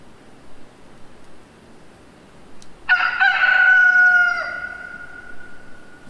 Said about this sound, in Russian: слышится крик петуха.